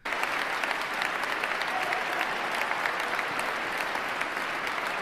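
Crowd applauding steadily throughout at a presidential inauguration, a dense, continuous clatter of many hands at even loudness with no voices standing out.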